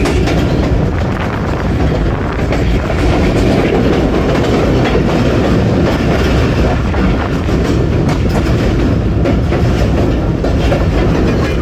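A passenger train rolls toward Lala Musa junction with loud, continuous rumbling and clickety-clack of wheels over the rails, steady and close throughout.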